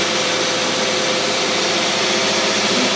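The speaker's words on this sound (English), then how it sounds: "Hey, not a bad running carburetor. See if it'll idle down some." A running engine fitted with a Rochester two-barrel carburetor idles steadily, a continuous close, even drone with no talk over it.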